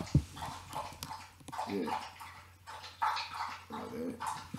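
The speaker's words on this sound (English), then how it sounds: "my dog's gonna take a drink over here" A dog laps up water in a rhythmic series of wet slurps, close by and moderately loud, repeating in uneven bursts.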